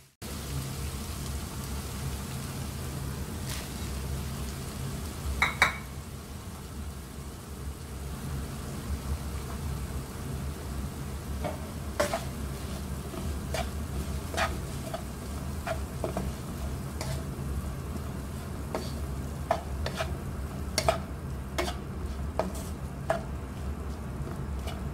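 Vegetables for chicken spring rolls are stirred in a pan over a steady, soft sizzle that hisses throughout, broken by occasional light spatula clicks against the pan.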